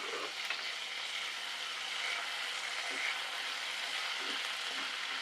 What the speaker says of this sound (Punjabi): ਇਹਨੂੰ 5-7 ਮਿੰਟ ਲਈ ਆਪਾਂ ਫਰਾਈ ਕਰਾਂਗੇ